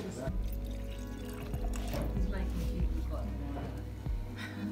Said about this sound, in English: Just having wine poured.